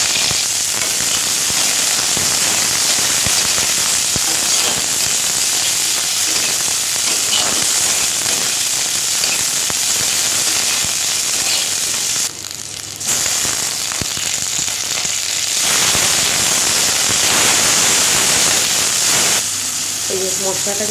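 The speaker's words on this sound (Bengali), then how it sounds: "এই যে মশলাটা কিন্তু পুরো ভাজা ভাজা হয়ে গেছে।" Whole spices and two dried red chillies fry in hot oil in a wok, giving a steady, loud sizzle and crackle that runs throughout, with brief dips where a voice speaks over it.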